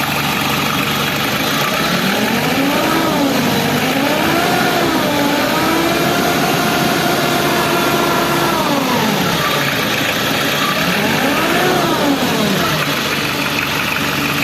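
A freshly overhauled Hyundai Starex D4BH engine runs loud and close, rising and falling through several revs over a steady idle.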